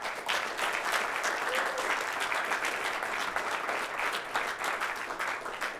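A college signing ceremony audience gives a steady round of applause, many hands clapping densely and evenly for several seconds, fairly close and loud, with no speech over it.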